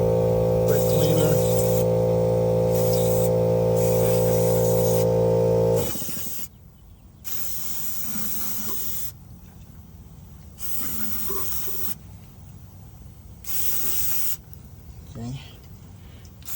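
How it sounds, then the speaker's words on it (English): Short hissing bursts of brake cleaner spray onto car engine parts during oil cooler and timing chain work, several spaced blasts following a steady mechanical hum that cuts off partway through. "Brake cleaner."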